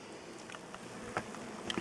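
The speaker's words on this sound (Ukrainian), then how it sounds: "І Дивіться, де сидять бджілки. А вже літають." Faint, soft buzzing of honeybees around a beehive just after wintering, a low steady hum with a few brief louder passes of single bees flying close by, and no voices.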